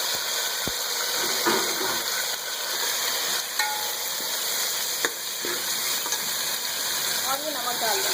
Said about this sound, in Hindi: ज़ीरा लाल हो गया है, अब इसमें आलू डालेंगे।